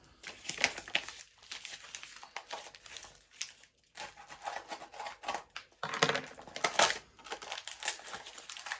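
Paper and bubble wrap crinkle and rustle as a parcel is cut open and unwrapped up close, with bursts of crumpling and tearing interrupted by brief pauses.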